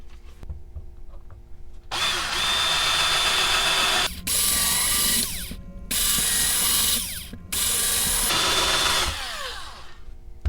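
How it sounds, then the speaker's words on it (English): A drill with a 9/64 bit reams out holes in an RC plane kit build, running in three loud, sustained bursts separated by brief pauses, close by and steady. "move up to a 9/64, a little bit bigger, and we'll ream them out with that"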